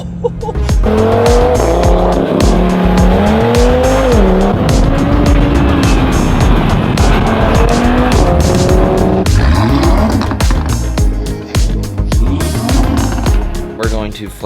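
An Audi RS3 with all-wheel drive and a stage 1 tune accelerates at full throttle, a loud rising engine roar climbing through gears with brief dips at shifts, close inside the cabin, with someone talking over it.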